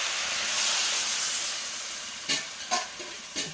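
Water goes into a pan of frying jackfruit curry, setting off a loud, steady steamy hiss and sizzle, followed by a few short clinks or stirring knocks near the end.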